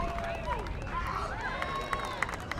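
A crowd cheers and claps at a large-dog agility competition in Huntington Beach as Hallelujah, a 4.5-year-old border collie, makes a blazing fast run. Steady crowd noise and babble run throughout, with a commentator talking over it and a few sharp claps near the end.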